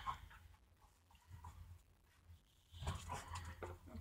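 Dogs play in a neighbouring space, giving off scattered soft yips, whimpers and scuffling at a moderate distance, fairly quiet and intermittent against a hushed indoor background.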